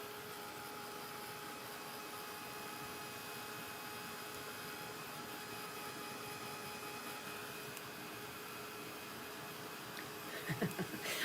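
A heat tool dries a mixed media background in a craft studio, a steady whirring blow that runs at an even level throughout, with a brief rustle and clatter near the end.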